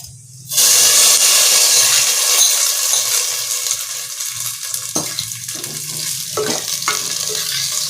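Fried curry leaves and chillies tipped into a chicken curry, a sudden loud sizzling burst that settles into steady bubbling hiss, with a few spoon clinks as the gravy is stirred.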